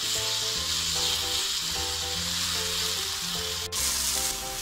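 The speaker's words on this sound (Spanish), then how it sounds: "le ponemos un poquito de aceite a echarle el tomate y vamos a dejar que nuestro guiso se cocine un poco" Tomato frying in a little oil for an empanada stew gives a steady, close hiss of sizzling under background music, with no talk.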